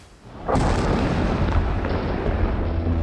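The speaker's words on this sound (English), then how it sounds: "That's an explosion." A sudden heavy boom erupts after a quiet moment, then rolls on as a loud, sustained rumble with no voices.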